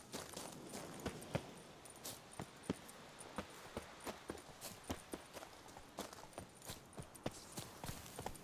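Horse hooves clip-clop steadily in The Witcher 3, a regular walking rhythm of sharp, evenly spaced hoof strikes, fairly quiet and heard alone without talk.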